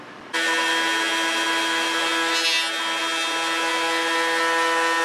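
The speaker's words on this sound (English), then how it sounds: "Okay, well I got done planing." A steady, loud mechanical whine with a constant hum runs for several seconds, a rough scraping texture mixed in, with no voices, as a power planer shaves wood for a chessboard.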